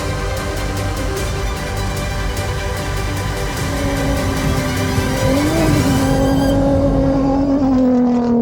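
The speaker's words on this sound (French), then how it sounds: "au bord d'une longue ligne droite où les moteurs s'expriment à fond" Loud rally-raid engines rev hard at full throttle on a long desert straight near Merzouga, Morocco, a sustained high-pitched roar that rises and shifts in pitch as a vehicle passes close by.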